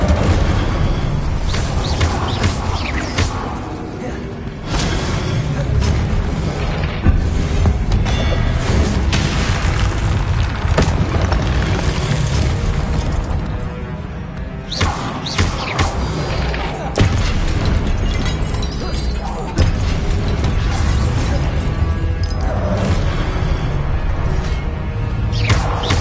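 Fire and blast spells such as Incendio and Confringo going off in the Hogwarts Legacy video game, a steady run of booming bursts and whooshes over a dense, loud game soundtrack throughout.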